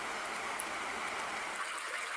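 A steady synthetic rain texture from the iPhone iOS 15 Background Sounds rain setting, an even wash of patter and hiss that stays continuous and unchanging throughout, with no voices.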